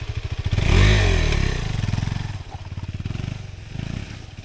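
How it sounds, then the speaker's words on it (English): A KTM 390 Adventure motorcycle tips over with a heavy clattering thump and scrape while its single-cylinder engine keeps idling in a fast, steady pulsing putter close by. "today I dropped my KTM 390 Adventure for the first time."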